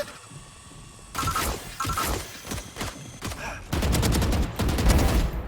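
Rapid automatic gunfire from Valorant, loud bursts of shots in quick clusters with a few gaps, then a denser sustained volley near the end, with faint talk underneath.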